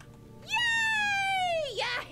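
A cat in the video game DC Universe Online lets out one long, loud, drawn-out meow that slides gently downward before trailing off into a short rough murmur.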